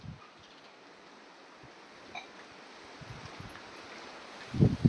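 Wind blows across a farm field where groundnuts are being sown with bullocks, a soft, steady rushing hiss with a few faint rustles and louder low buffeting thumps near the end.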